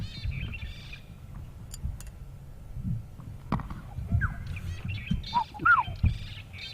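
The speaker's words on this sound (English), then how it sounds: "It's a bright yellow bird with a black head." Faint, scattered calls and short chirps of a bright yellow bird with a black head, outdoors on a safari drive, over a low rumble of background noise, with a few brighter calls near the end.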